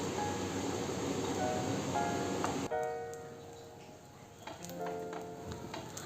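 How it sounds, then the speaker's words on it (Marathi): Egg and cheese sandwich frying in a pan over a low gas flame, a soft steady sizzle with faint crackles that dips in loudness midway, with no voices. "दोन मिनिटं छान दोन्ही साइडनं आपल्याला क्रिस्पी होईपर्यंत शेकून घ्यायचं आहे"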